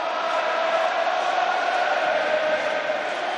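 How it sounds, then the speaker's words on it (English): A rugby stadium crowd at a La Rochelle versus Exeter Chiefs Champions Cup match roars in a steady, loud, dense wash of cheering and voices that holds for several seconds without a break. "And the crowd giving voice."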